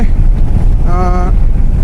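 Riding a motorbike produces loud, buffeting wind noise against the microphone, a constant low rumble with a brief tonal hum partway through.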